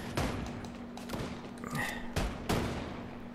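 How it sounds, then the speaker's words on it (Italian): Gunfire in the Fortnite video game, several sharp shots cracking in an irregular burst over about three seconds, with a steady background hum beneath. "stanno arrivando spari dappertutto"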